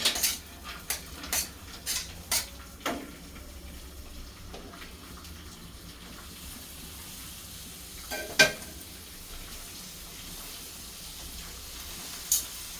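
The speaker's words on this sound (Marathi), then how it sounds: "म्हणून मी थोडंसं भाजून घेणार आहे अगोदर" Chopped vegetables roast on a flat tava for a stovetop pizza, giving a faint, steady sizzle broken by sharp metallic clinks and scrapes of a spatula, most of them early on.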